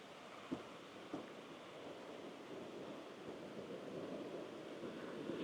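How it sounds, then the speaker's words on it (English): A mountain creek flows steadily at Suce Creek in sunny Montana, a continuous broad rushing wash, moderately near with no talking. "What is so soothing about moving water?"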